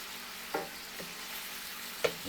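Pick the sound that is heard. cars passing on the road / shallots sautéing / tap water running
shallots sautéing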